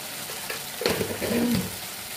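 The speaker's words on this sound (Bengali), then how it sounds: "এবার নেড়ে চেড়ে মশলাটা কষাবো।" Spiced vegetarian masala with turmeric, salt and a pinch of sugar sizzling in a pan while being stirred, a soft steady fry with a few brief scraping strokes, close and moderately loud, no talk.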